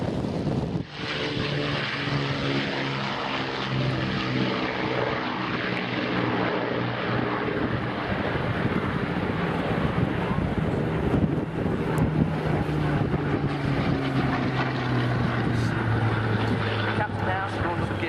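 A propeller bomber from the Battle of Britain Memorial Flight drones past at an airshow, a steady multi-engine hum with slowly sliding pitch and wind buffeting the microphone, while a commentator talks over it throughout.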